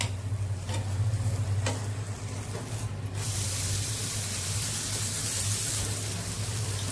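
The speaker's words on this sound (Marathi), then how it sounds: "2 मिनिटं जर आपण परतून घेऊया. सावकाश परतायचं आहे." Tomato omelette sautéing slowly in a little oil in a pan on low flame, giving a steady close sizzle and hiss throughout, with a brief clink or stir early on.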